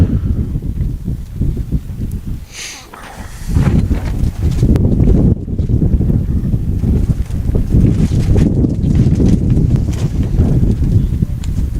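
Strong wind buffeting the microphone at an airfield during STOL takeoff and landing practice, a loud continuous low rumble with gusts throughout and a brief lull early on.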